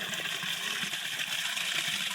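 Creek water running fairly hard as it filters through and under rocks, a steady close rushing wash with no break or voices.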